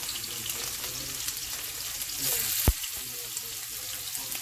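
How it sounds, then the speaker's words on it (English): A seasoned steak sears seasoned side down in a pan of oil, giving a loud, continuous close sizzle with a brief sharp pop near the middle. "We're going to sear our steak just like that"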